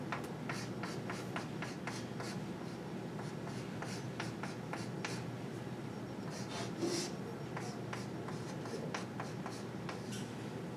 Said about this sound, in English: So we just write limit.